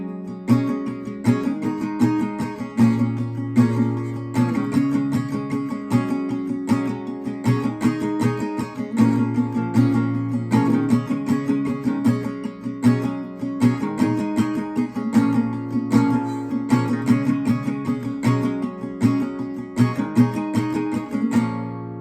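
Acoustic guitar strummed through the second chorus, the rapping section, of a song in its live version: steady, rhythmic chord strokes played alone and up close, with no singing or talk.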